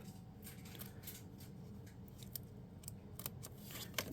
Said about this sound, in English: take my scissors, cut this front off at the fold.